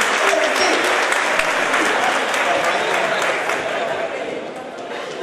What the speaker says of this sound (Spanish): la gente nos quiere aplaudir